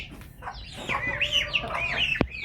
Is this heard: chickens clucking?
yes